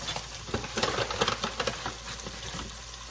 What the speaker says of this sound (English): Let's get this all stirred together.